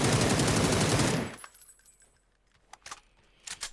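A burst of rapid automatic gunfire from a compensator-equipped weapon in PUBG on console, loud and continuous for about a second, followed by a few scattered clinks of spent casings.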